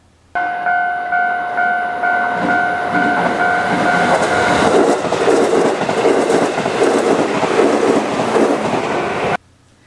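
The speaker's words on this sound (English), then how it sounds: "I was in Japan, and I took video of their railroad also." A Japanese railway train passes close by, a loud steady rumble and rolling clatter of cars lasting several seconds after two sustained horn-like tones at the start, with no talking.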